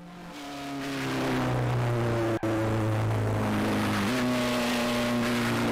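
Simulated race car engine in the Grand Prix 2 racing game with a 1990 season mod, a loud steady harmonic drone that shifts pitch partway through, with a brief cut near the middle.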